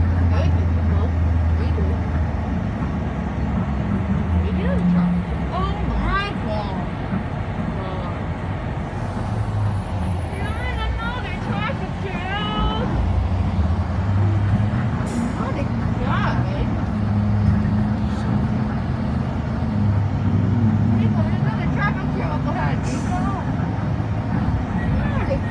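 A school bus rumbles through heavy traffic on a cloudy spring day, its steady engine drone and road noise continuous throughout, with people talking and murmuring over it.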